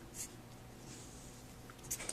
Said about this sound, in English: I'm not going to write an x, I'm going to write everything that was above it